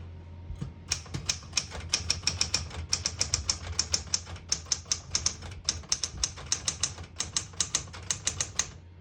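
Rapid, crisp clacking of a 1968 Smith-Corona Super Sterling manual portable typewriter, steady bursts of keystrokes with short pauses, close and clear with no talking.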